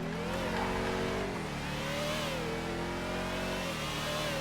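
A Dominator GTX car engine in the GTA FiveM game revs hard and steadily, its pitch rising, dipping and climbing again as the throttle shifts. The loud mid-range drone holds close and continuous throughout, with no one talking.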